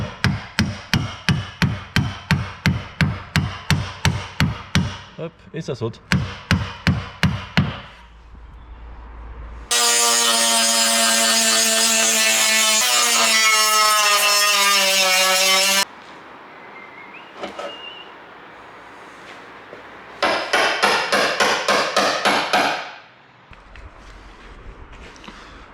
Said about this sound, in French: On prend un burin et on vient taper entre les deux tôles pour pouvoir séparer les points